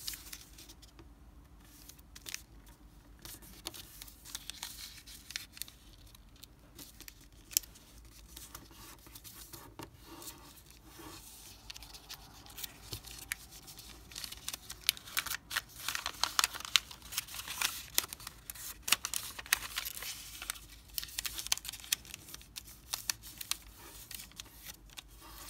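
Origami paper being folded into a three-dimensional carnation, with soft crinkling, creasing and pattering rustles that continue close up and grow busier toward the end, with no voice.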